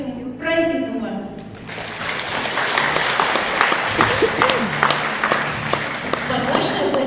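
Applause from the audience at a Mother's Day celebration in a village culture house. After a brief opening voice, loud clapping from a full room sustains for several seconds.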